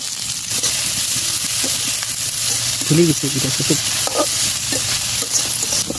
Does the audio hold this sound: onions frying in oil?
yes